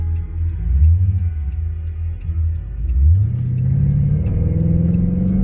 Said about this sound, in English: Flowmasters sound great.